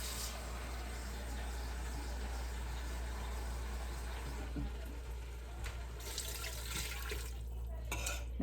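Water poured from a measuring cup into a soup pot of taco soup with green chilies, a steady running splash under a constant low hum, close and moderately loud for several seconds.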